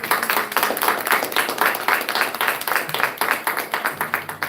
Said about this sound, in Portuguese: Você pode louvar o Senhor com as palmas?